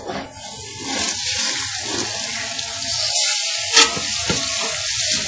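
Chopped garlic, ginger and green chilies frying in hot oil for a dhaba-style dal, a steady close sizzle with a sharper crackle and stirring scrapes near the end.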